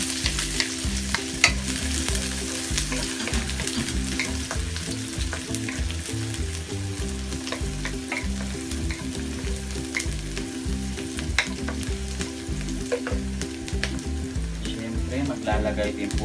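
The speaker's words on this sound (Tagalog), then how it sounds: "so igigisa natin ng sibuyas." Sliced onions sauté in hot olive oil for a tilapia steak dish, a steady close sizzle with frequent sharp crackles and stirring clatter running throughout without talk.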